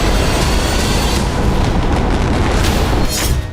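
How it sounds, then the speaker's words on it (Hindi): Heavy air strike explosions and missile launches in wartime, a dense continuous roar of booms and blasts filling the whole stretch, loud and close, with a sharper burst near the end. "एयर स्ट्राइक हो रही है, मिसाइलें दागी जा रही हैं।"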